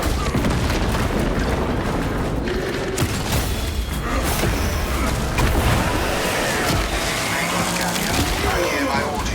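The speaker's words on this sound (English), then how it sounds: "Melter bomb prime." A melter bomb explosion in a video game: a loud, sustained booming rumble with mechanical creaks and rattling, steady and dense, mixed with game voices.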